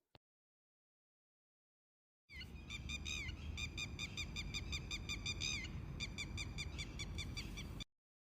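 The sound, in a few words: lapwing call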